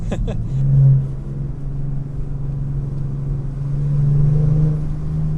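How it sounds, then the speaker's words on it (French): From inside a 2014 BMW 330d F31 Pack M tuned to Stage 2, with a 3.0-litre turbo diesel six-cylinder making 420 hp, comes a loud, steady engine drone that swells twice as the car pulls. "T'entends le turbo là?"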